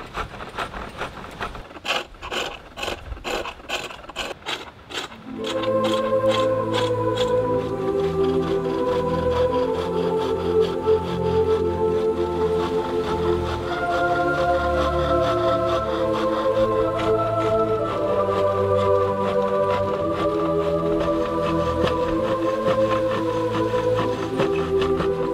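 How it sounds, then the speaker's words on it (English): A sharp flat chisel shaves wood on a foot-powered pole lathe, with rhythmic back-and-forth scraping strokes for about five seconds before music takes over. "The next stage is to use a sharp and flat chisel, working with the bevel down, gradually removing the little high points created by the roughing gouge."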